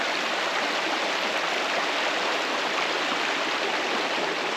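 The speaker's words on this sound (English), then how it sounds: "And these beautiful little rapids here." Small rapids on McMichaels Creek rush steadily close by, a continuous, even hiss of tumbling water with no break or other sound.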